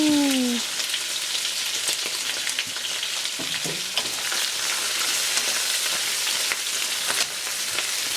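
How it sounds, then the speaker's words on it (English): Shrimp sizzling in a new pan as they braise, a dense, steady crackle of frying up close, starting right after a short whoop of a voice. "I'm gonna braise the shrimp right now. Ready to put the shrimp in."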